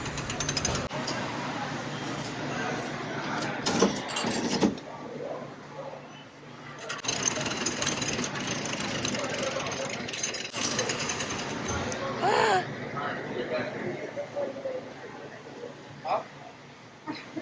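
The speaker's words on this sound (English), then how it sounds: "We're gonna crush a penny." A coin-operated penny press machine grinds and crushes a penny at a stop in Maryland, a steady mechanical cranking rumble with bursts of grinding, under scattered talk and background noise.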